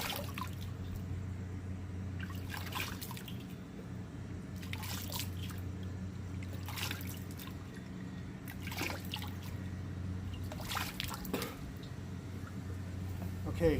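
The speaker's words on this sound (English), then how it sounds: "Rinsing with tepid water, which is okay, but there's no cold water to stop the weepers." Tepid water trickles and splashes in intermittent bursts while a man rinses his face during an outdoor wet shave, over a steady low background hum.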